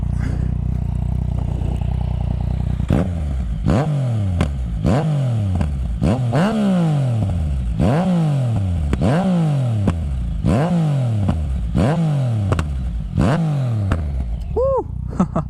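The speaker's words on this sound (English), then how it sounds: "I'm gonna just do a few revs here" A 2016 Yamaha FZ-09/MT-09 motorcycle engine revs repeatedly, about nine sharp throttle blips in a steady rhythm, each rising then falling, loud and close.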